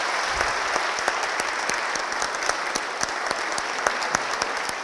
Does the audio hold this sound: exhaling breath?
no